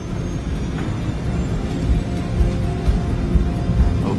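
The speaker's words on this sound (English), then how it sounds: "The 747 accelerates towards takeoff speed, 290 kilometers an hour." Boeing 747 engines at takeoff thrust roar steadily as the airliner accelerates down the runway, giving a loud, continuous, broadband rumble with no talk over it.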